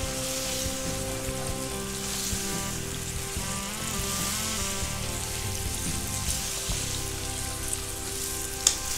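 Lamb meat frying on high heat in a pan for rogan josh, a steady loud sizzle and crackle throughout with faint stirring, no voices.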